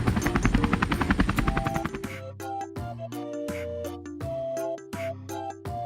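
A toy helicopter's rapid rotor chop pulses steadily for about two seconds, then gives way to a cheerful musical jingle with bright melodic notes.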